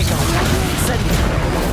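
An Incendio fire spell is cast in Hogwarts Legacy during a loud battle, a dense crashing burst of magic layered over constant game sound effects.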